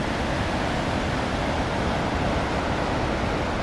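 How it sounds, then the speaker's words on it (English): A swollen stream rushes down toward a lake in the Swedish mountains near Abisko, giving a steady, loud, broadband roar of running water with no breaks. "There's some serious water running down there."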